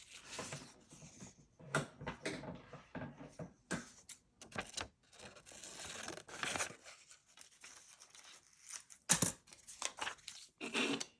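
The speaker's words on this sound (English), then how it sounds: "I'm just going to use the scissors" Scissors cutting paper sheets for a junk journal clipboard paper pad, close and quiet, with short irregular bursts of snipping and crinkling separated by brief pauses.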